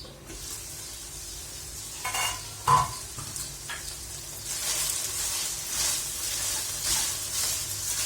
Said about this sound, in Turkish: Biraz kavrulmasını bekleyeceğiz